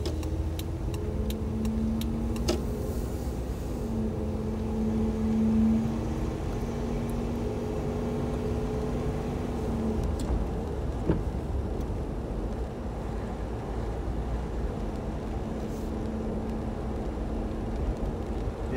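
A 1995 Toyota 4Runner engine runs steadily during a test drive after a valve cover gasket job, a low continuous drone with road and wind noise coming through open windows and a faint tonal hum.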